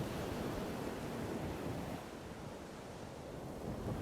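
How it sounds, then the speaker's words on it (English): Ocean waves roll onto a coast under dark gray sea and overcast sky, with a cool wind blowing; the surf forms a steady, continuous wash with a faint wind rumble and no voices. "I watch and listen to the sound of the waves"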